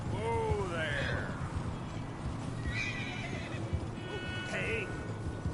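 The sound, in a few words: horse neighing and hooves in a video game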